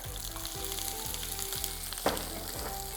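Steady sizzling of chopped okra sautéing in hot oil over a low flame, a constant crackle with a low rhythmic hum underneath and a brief clink partway through.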